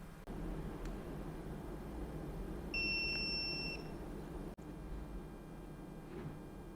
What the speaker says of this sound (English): The buzzer will beep indicating heating process starts.